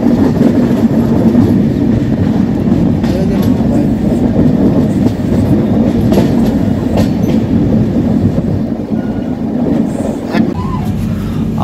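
A passenger train rolls through Vijayawada on the Howrah to Katpadi run, with a continuous loud rumble and rattling wheel clatter heard from inside a 3AC coach, and a voice talking over the noise.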